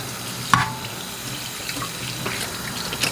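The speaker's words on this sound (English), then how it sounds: "Gotta wash all my dishes now." A kitchen tap runs steadily into a sink during dishwashing, a continuous close hiss of flowing water with a brief clink near the start.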